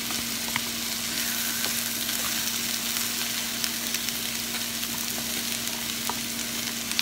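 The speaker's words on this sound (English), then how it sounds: "Now at this stage, we're going to add our peppers." Yellow and red sweet peppers sauté in a hot pan with vegetables, a continuous close sizzle and crackle with light stirring clicks and a faint steady hum beneath, no speech.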